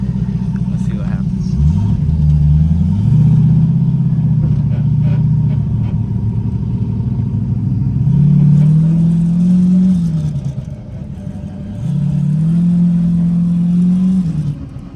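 A big-turbo Camaro engine, an IROC with a turbo LS, revs and accelerates loudly on its first drive, rising and falling in several long pulls with brief lulls between.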